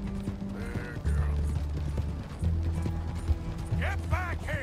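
Horse hooves clip-clop in the video game Red Dead Redemption II, a steady rhythmic clopping under game music and mechanical rattling, with a brief whinny near the end.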